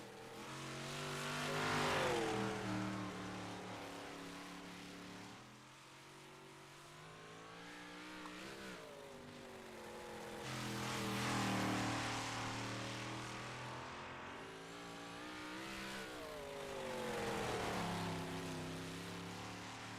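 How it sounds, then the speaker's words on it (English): Race car number 31 rolls onto the track for qualifying, its engine note rising and falling in long swells as it accelerates and passes, loud and continuous with no talk over it. "First driver to make their way onto the racetrack is Brandon Templeton in car number 31."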